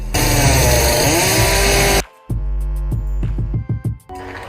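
A chainsaw in the horror film Rumah Dara runs with a loud, continuous whining roar, then cuts out suddenly. Sharp, choppy hits and bursts of noise follow.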